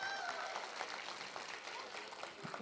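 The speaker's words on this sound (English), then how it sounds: "Give it a big round of applause." Applause from a conference audience, a dense wash of clapping that runs steadily throughout at moderate level, with scattered voices mixed in.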